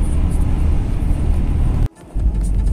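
A BMW E46 320d diesel car driving, with steady loud engine and road rumble throughout and a brief dip around two seconds before the drone returns.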